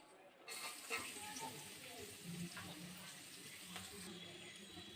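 Chopped onion frying in hot oil with whole cumin seeds and garam masala powder, a steady sizzle under light clatter and stirring throughout, with faint kitchen noise.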